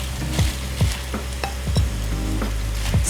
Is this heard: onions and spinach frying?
yes